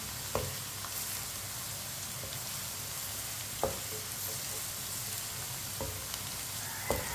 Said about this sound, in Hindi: भिंडियों को मैंने हल्का सा ब्राउन कर लिया है।